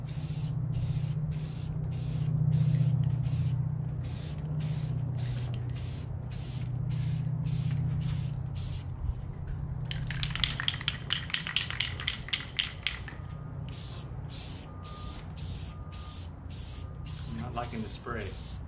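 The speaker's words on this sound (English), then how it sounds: "Liking the spray." Spray paint hisses in short repeated bursts while a 75-gallon saltwater aquarium is painted, with a constant low hum underneath and a quick run of sharper sprays near the middle.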